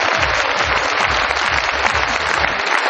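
Loud, dense applause from a crowd at a business recognition meeting, steady clapping filling the whole stretch with thumping low bursts underneath, no voices over it.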